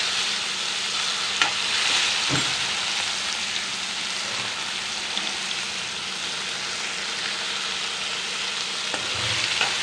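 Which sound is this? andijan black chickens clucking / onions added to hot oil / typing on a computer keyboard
onions added to hot oil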